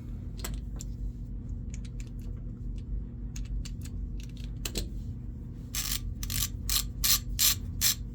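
Bursts of rapid mechanical clicking, a ratchet being worked in short runs, loudest and most regular toward the end over a steady low hum.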